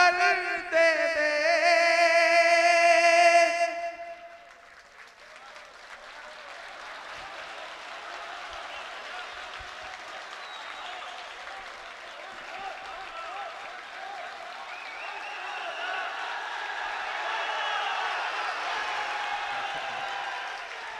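Applause at a poetry recital during an international mushaira in Parbhani, Maharashtra, starts after a few seconds of sustained sung or recited voice. It then swells into broad, steady clapping from a large crowd that continues to the end.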